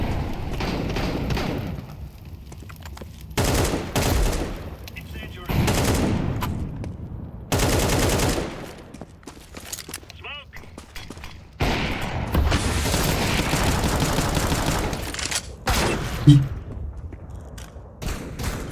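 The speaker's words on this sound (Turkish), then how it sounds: "AWP'ye pompalı attım" Shotgun blasts ring out in a Counter-Strike 2 match, with loud, heavy bursts of fire separated by short pauses across the round.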